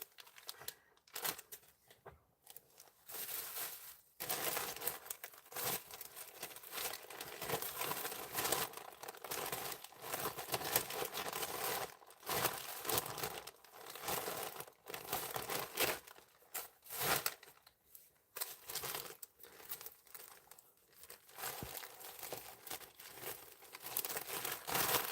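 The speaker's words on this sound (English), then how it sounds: "I know you guys can hear me and all my rustling over here." Items being handled make close, continuous rustling and crinkling, with papery crumples and tearing-like scrunches that come in dense bursts, broken by brief quieter gaps, and no talk.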